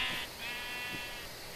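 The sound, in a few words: sheep bleating in Minecraft video game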